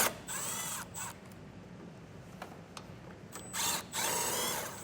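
A drill driver backs 10mm bolts out of the bumper on a 2024 Chevrolet Silverado 1500, short bursts of whirring that start and stop between quiet pauses and faint ratchety clicks, fairly close but low in level.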